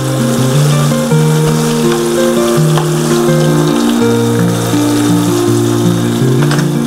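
Fish frying in hot oil while oil is spooned over the top, a steady loud sizzle and crackle running throughout with a tonal music-like line layered over it.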